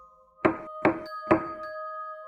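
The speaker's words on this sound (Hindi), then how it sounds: "नकली ने घर का दरवाजा खटखटाया।" Three firm knocks on a house door, evenly spaced and fairly close, over a steady low tonal drone, in the eerie setting of a horror story.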